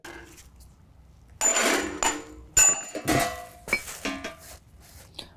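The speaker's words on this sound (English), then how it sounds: "Then we're going to go ahead and tap the hub assembly out of the steering knuckle." Metal tapping and clanking as a hub assembly is knocked out of the steering knuckle on a 2019 GMC Sierra 1500, a series of sharp, close, ringing strikes after a quiet start.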